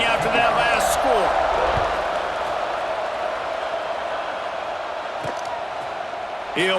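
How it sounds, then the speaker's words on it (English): Crowd noise fills a packed football stadium during a Penn State at Michigan college game: a steady, loud roar and murmur of many voices, with brief whoops and a few shouts rising over the wash. "this crowd is buzzing after that last score"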